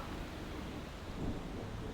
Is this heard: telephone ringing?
no